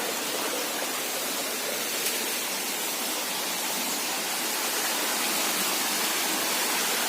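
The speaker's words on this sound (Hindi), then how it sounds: "Etah Gote 4 number waterfall" Gadachandi Waterfall in Keonjhar, Odisha roars as a steady, dense broadband rush of falling water, constant and close throughout with no voices.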